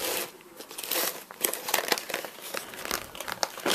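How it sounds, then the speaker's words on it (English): Plastic packaging from a pair of Howard Leight Impact Sport electronic earmuffs crinkles and crackles up close as it is handled and pulled apart, a dense run of sharp rustles. "So plastic kind of pops right out."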